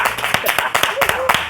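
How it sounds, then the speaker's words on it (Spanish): Warm applause greets Sebastián "Cebolla" Cebreiro at his book presentation in Montevideo, brisk irregular claps from a small nearby crowd over a second and a half, with murmured voices mixed in. "ya recibir con un fuerte aplauso a un querido amigo como es el Cebolla"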